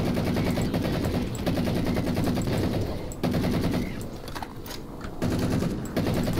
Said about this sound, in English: Love the sound of this rifle.